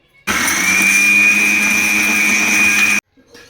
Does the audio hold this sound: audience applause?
no